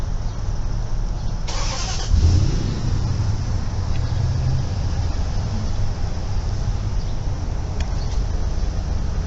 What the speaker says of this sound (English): It's a Chevy Traverse.